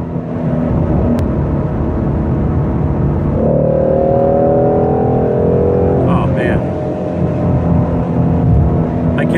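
A 2018 Ford Mustang GT350 pulling hard in fourth gear at highway speed, its engine a loud, sustained drone from inside the cabin that rises in pitch midway, with a brief clunk late on.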